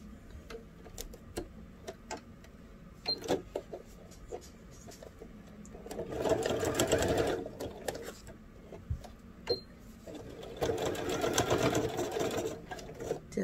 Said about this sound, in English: you're going to give it a little tack right there on your sewing machine